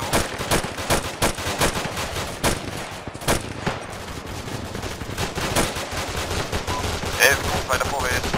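Rapid gunfire in a military convoy game session cracks out in bursts and single shots, sharp and fairly close, with scattered rifle fire continuing throughout.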